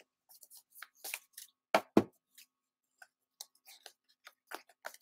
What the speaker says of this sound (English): I'm trying to shuffle.